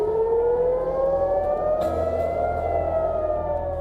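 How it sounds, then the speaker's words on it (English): Air raid sirens in a wartime setting wail loudly and continuously, a rising and falling tone sustained throughout with no voices. "Air raid sirens are wailing."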